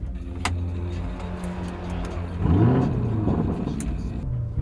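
A 2020 Lamborghini Urus engine fires up with a rising whir and a burst of revs, settling into a deep rumble close by, with faint clicks around it.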